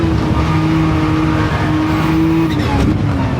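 A Lamborghini Countach QVX race car runs flat out on a circuit, its engine holding a loud, sustained high-revving wail that shifts pitch near the end as the car presses on, close and continuous with no voices.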